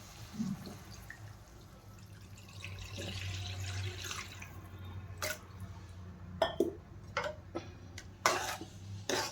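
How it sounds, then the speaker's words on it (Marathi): Water pours into a pan of carrots for veg manchurian with a soft running splash, followed by a few sharp clinks and taps of utensils against cookware. "आता यामध्ये आम्ही पाणी टाकून घेणार आहे थोडं"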